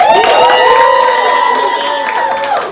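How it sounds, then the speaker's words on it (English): A roast battle audience in Hartford cheers and shouts to back a winner, a dense, loud crowd roar with high whoops riding over it from start to finish. "If you think Dustin was the winner, clap your hands."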